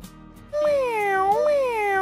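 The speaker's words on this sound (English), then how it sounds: "Meow. C is for cat." A cat meows twice in clear, close, drawn-out calls with rising and falling pitch, after a brief quiet start.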